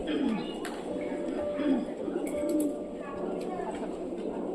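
Pigeons cooing in the grounds of an old rajbari palace, soft repeated coos a few times in the background while someone talks over them throughout.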